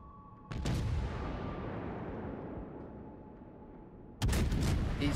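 Heavy naval guns firing from a warship in World of Warships: a loud broadband blast opens a long rumbling decay, then a second sharp salvo bursts in near the end, with no talk.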